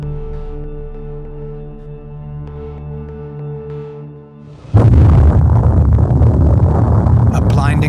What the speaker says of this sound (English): A blinding flash of light and a deafening explosion signaled the beginning of the nuclear age.